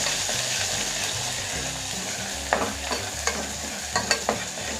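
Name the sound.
stirring chilli powder and turmeric into the pan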